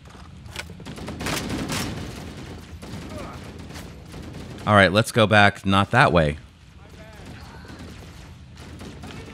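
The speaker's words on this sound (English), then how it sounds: "Let's follow the gunfire." Several rapid bursts of automatic gunfire crackle in a firefight in the video game Halo: The Master Chief Collection, loud and close for about two seconds, with a voice talking before and after.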